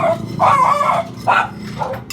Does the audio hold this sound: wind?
no